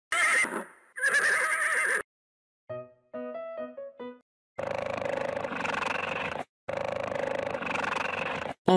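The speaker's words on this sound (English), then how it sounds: "Horse." Bursts of loud horse neighing and whinnying are broken by short silences, with a brief tonal musical interlude between them, all in a bright cartoon-like mix.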